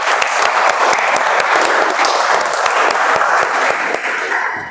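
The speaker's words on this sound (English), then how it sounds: "So a thumbs up and a clap." A Toastmasters meeting audience gives dense, steady applause for the role-takers, many hands clapping at once, loud and close, easing slightly at the very end.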